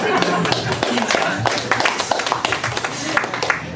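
An audience at a comedy sketch show claps in a dense, steady patter of many hands, with cheering voices mixed in at a lively, even loudness.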